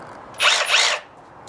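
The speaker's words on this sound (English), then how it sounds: "Time to test our Milwaukee chisel out." A Milwaukee hammer drill chisels masonry while repairing a brick lintel, two short loud bursts of harsh rattling close by with quiet between.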